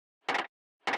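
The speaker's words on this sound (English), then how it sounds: "I recorded the sound of an air compressor in my garage because the winding up sound sounded so cool to me." Two short, identical bursts of a processed, layered air compressor winding-up sound recorded in a garage, each a brief whooshing swell of broadband noise separated by silence.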